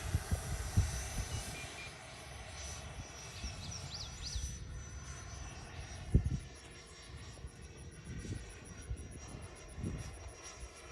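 Freewing Eurofighter Typhoon RC jet with a 6S 90mm electric ducted fan and a new motor, flying at a distance as a steady, faint whooshing whine that rises and falls with a few louder passes.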